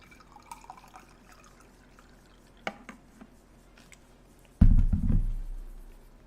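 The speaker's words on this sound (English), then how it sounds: "Let me pour some more tea in here too." Tea is poured into a cup after a few light taps and clinks, a sudden close liquid gush that trails off over a second or two.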